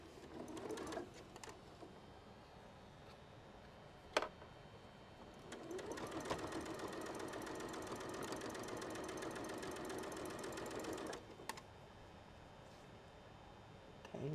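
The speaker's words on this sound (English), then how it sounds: "So now we're going to sew this." A sewing machine stitches quilt pieces with a scant quarter-inch seam, running in a steady, even whir for several seconds after a quieter start, then stopping.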